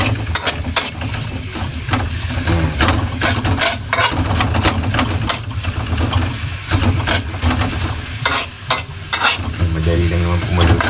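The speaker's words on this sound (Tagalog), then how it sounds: "Madali lang naman pumaluto ang sibuyas." Onions sauté in a pan for green bean adobo, a loud, dense sizzle with constant rapid spatula scraping and clattering up close, no speech heard over it.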